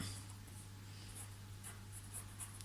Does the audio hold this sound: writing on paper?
yes